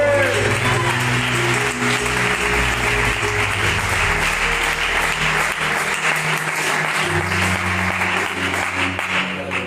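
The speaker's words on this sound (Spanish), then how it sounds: "Fuertes aplausos para el Señor" A church congregation applauds during a Spanish-language sermon, loud sustained clapping over a continuous held keyboard or organ tone, with murmured voices faintly underneath.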